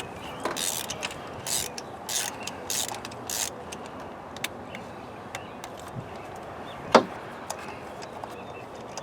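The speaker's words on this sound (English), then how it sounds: "Go ahead and put that down there. Remove our spark plug." Ratchet clicking in short bursts while loosening a spark plug from a Chrysler 2.4L engine on a locking extension, several brief rapid ratcheting runs near the mic, with a sharp metallic knock near the end.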